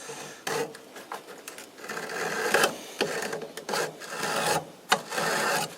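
Tinder material dragged across the cutting edge of a Smith's tinder box, giving a run of rough rasping scrapes in uneven bursts, close and fairly loud with no voices.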